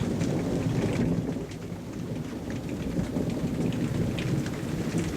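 Squall over Boca Chita Key in Biscayne Bay, Miami: torrential rain pours steadily and loudly on surfaces as thunder rumbles deep underneath, a dense continuous roar with no voices.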